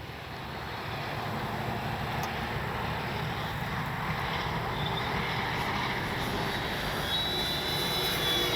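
An FMS 1400mm F4U Corsair RC warbird flies overhead at about half throttle, giving a steady, moderately distant whining motor drone that swells slightly as it climbs, with a faint high tone near the end.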